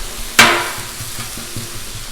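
Food for cheesy gordita crunch cooking on a Blackstone griddle: a sharp close metallic clank at the start, then a steady, faint sizzle with soft scraping taps underneath, with no speech.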